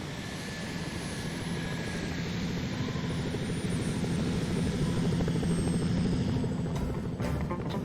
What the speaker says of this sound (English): Or is there a helicopter about to land?